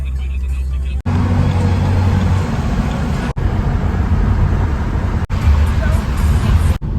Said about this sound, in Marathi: भाई ट्रॅफिक बघा एक्सप्रेसला ट्रॅफिक